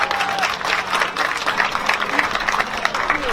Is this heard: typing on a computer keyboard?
no